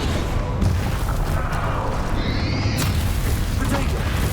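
A spell cast in the Hogwarts Legacy video game: booming, burst-like magical blasts with a rising whoosh and sharp crack, loud and continuous over dense game noise.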